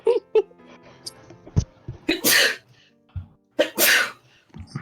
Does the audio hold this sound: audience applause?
no